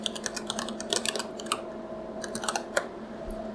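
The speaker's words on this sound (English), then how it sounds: "so I'm going to type that in." Quick, irregular clicking of keys on a computer keyboard as a short phrase is typed into a search box, close and clear against a faint steady hum, with no talking.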